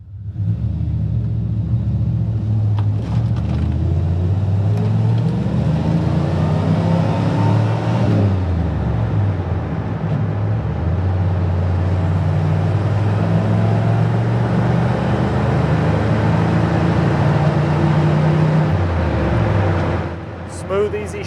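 A 1988 Chevrolet K2500 pickup with a four-speed manual gearbox drives along steadily, its engine rumbling loud and close with rising revs and brief dips as gears change; a voice talks over it throughout.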